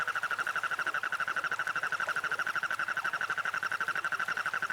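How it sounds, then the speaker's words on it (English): A cane toad calls in the Amazon rainforest, giving a continuous, rapidly pulsing trill at an even rhythm, close and clear with no other sounds. "It is the cane toad."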